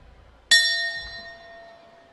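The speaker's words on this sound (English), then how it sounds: "that is the bell for the 5th round" A boxing ring bell strikes once to mark the round during a WIBA atomweight title bout between Thailand and the Philippines. It gives a loud, bright clang whose metallic ring decays slowly over about two seconds.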